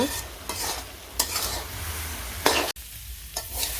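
Something frying in a pan in a village kitchen while making lentil dal and bottle gourd shukto, with steady sizzling and several distinct spatula strokes stirring and scraping, close up with no talking.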